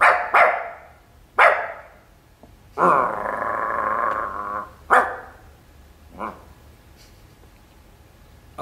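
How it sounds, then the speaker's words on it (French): A dog barks in sharp, separate bursts and lets out one sustained growling roar in the middle, loud and close, with quiet gaps between barks. "Aboyer, ça veut dire parler comme les chiens."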